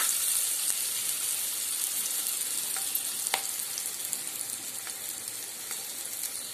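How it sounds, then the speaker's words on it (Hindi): Potatoes frying in a couple of spoons of oil in a kadai, giving a steady close sizzle with faint occasional ticks and no voices. "और इसे अच्छे से फ्राई करेंगे।"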